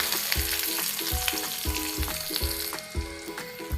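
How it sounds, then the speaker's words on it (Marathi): Mustard seeds, curry leaves and finely chopped onion sizzle in hot oil in a pan, with a dense crackling fizz and regular soft stirring scrapes close by. "त्यानंतर मी यात मोहरी पण टाकून घेते, कढीपत्ता, बारीक चिरून घेतलेला कांदा"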